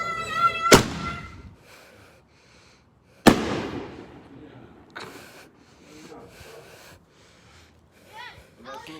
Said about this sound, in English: Hope you enjoyed the fireworks